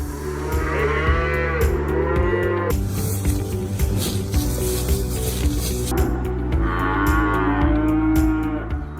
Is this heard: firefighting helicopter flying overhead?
no